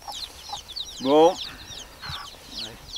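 Hens clucking on a played record, a few short bird calls and one louder squawk-like burst, with a brief word spoken.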